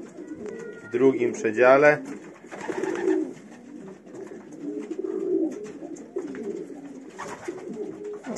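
Pigeons coo inside a loft compartment, soft repeated throaty calls rising and falling close by, with someone speaking over them in places.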